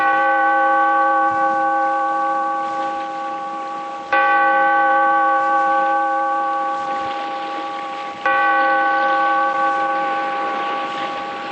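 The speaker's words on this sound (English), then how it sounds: "Bellkeeper, toll the bell, so that all may know we are gathered again in the weird circle." A large bell on a 1940s horror radio drama tolls three times, each strike sharp and ringing out for about four seconds before the next, with no voices.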